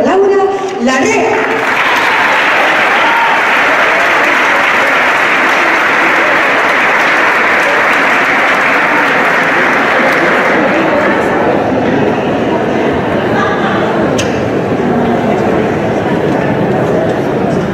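A large audience applauds for a singer at the Real Círculo de la Amistad, with loud, dense clapping that runs steadily for most of the stretch and thins slightly near the end.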